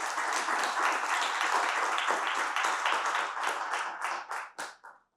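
A church congregation of a few hundred people clapping in unison, a dense burst of applause that holds steady and then tapers off into a few final claps, with no talking.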